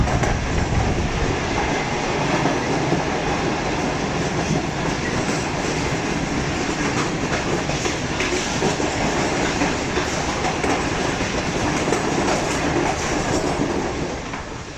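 A Green Line Express passenger train runs on rails between Rawalpindi and Lahore, Pakistan, with a loud, steady rumble and rhythmic clickety-clack of wheels over rail joints that continues throughout, close by and without talk.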